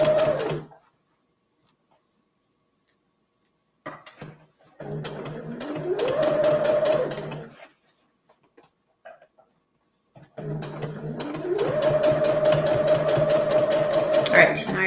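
Sewing machine stitching a reusable fabric gift bag, running in three bursts with a steady whirring drone that rises in speed each time, separated by silent pauses; the last run is longest and loudest.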